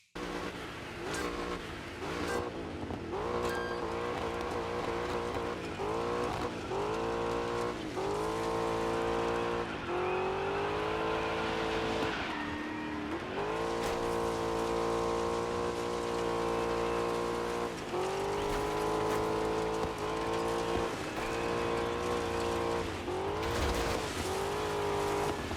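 Ford Mustang racing in the video game Dirt 5, a continuous engine drone climbing and dropping through gear changes, with occasional tire squeal and skids.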